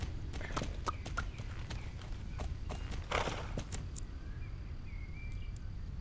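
Horse hooves clip-clop in the riding video game Springdale, a quiet, steady trotting rhythm of soft hoof strikes heard alone against faint ambient background sounds.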